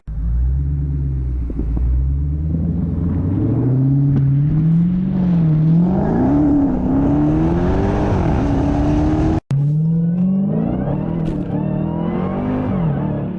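A Dodge Challenger Hellcat Redeye accelerates hard, its deep engine rumble climbing steadily in pitch through a long pull, cutting out for a split second at a gear change, then pulling again, loud and close.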